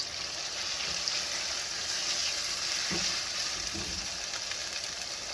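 Meat pie filling with cayenne pepper sizzles steadily in a pan, a constant close frying hiss with a few soft stirring scrapes and no talking.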